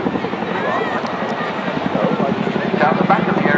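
A Chinook helicopter flies at the Swansea air show, its twin rotors thudding in a loud rhythmic chop with engine whine, under a commentator's announcing voice.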